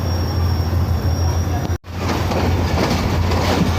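A train pulling out of Karachi Cantt station in Pakistan, heard from on board: a steady loud rumble with a low hum and faint rhythmic wheel clatter, briefly cut out midway.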